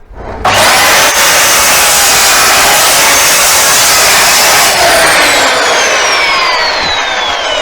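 A power saw blade cuts clamped wood pieces for a cottage-style coat rack with cubbies, spinning up sharply and then screaming loud and steady through the wood for several seconds, very close.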